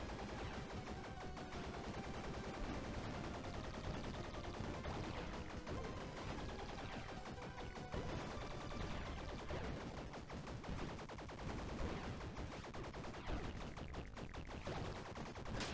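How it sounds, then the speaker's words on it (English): Steady rapid gunfire in the game Bleed, shooting at spike walls; a relentless stream of shots runs unbroken throughout, fairly quiet in the mix. "I forgot that you can shoot the spike walls to push them back"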